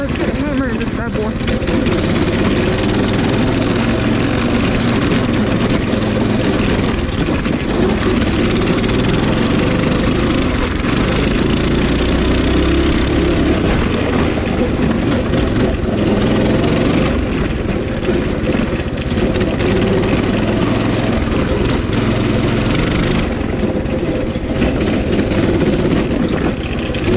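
A Coleman 200cc mini bike engine runs continuously, a loud, rough, throbbing idle and low-revving drone that stays steady for the full stretch with slight rises and falls, close by.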